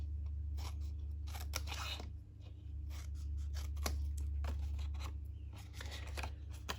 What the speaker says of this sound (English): I'm using the paper snips, and probably cut a little bit too much in there.